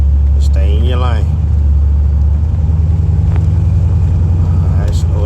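A car driven by a 9-year-old accelerates on a road, a loud, close, steady low engine rumble throughout, with an adult voice talking over it.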